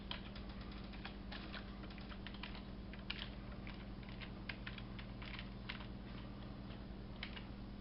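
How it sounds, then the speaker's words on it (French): A password is typed on a computer keyboard during a Windows 8 Developer Preview test, rapid irregular key clicks in short bursts, close and clear over a steady low hum, no talking. "je vais devoir taper mon mot de passe"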